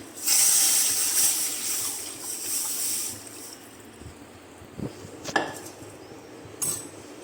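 Milk poured into a frying pan for coconut barfi gives a steady rushing splash for about three seconds, followed by quieter moments and a few metallic clanks of utensils.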